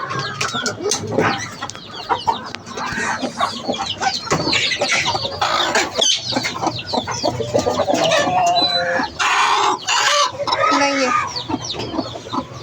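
Hens clucking close by, a busy run of repeated short clucks and squawks with occasional louder calls, continuing throughout.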